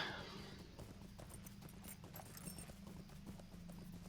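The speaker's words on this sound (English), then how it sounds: "If I can get my horse up the hill." Horse hooves clip-clop at a steady trot as a mount is ridden up a hill in Lord of the Rings Online. The rhythmic footfalls continue throughout over quiet game ambience.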